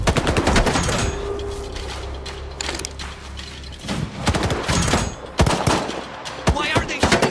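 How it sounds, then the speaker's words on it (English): Gunfire in a STALKER 2 video game cutscene: loud, close bursts of rapid shots and sharp single cracks, with mechanical clatter in between, separated by brief gaps. "Why are they shooting at us?"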